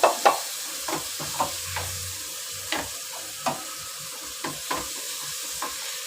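Ground tomato and green chillies added to a masala, with a low sizzle and spaced, sharp scrapes and taps of a spoon against the pan, close and fairly quiet.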